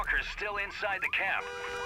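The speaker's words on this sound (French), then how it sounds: "Utilisons l'alarme." A wavering electronic alarm tone in a zombie video game sweeps up and down, blaring steadily with a voice briefly underneath.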